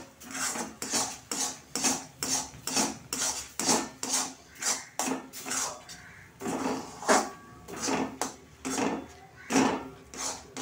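A dough-like mixture being stirred with water in a pan for Bengali dhokar dalna, heard as regular, rhythmic scraping and rubbing strokes of a utensil against the pan, repeated steadily and close.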